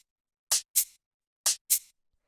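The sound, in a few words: simple hi-hat and shaker samples playing off each other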